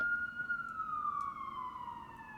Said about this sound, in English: I don't know what the sirens are for